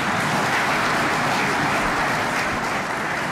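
Steady applause fills a conference hall at an economic forum in Kinshasa, a dense, even wash of clapping from a large audience that holds at the same loudness throughout with no voices over it.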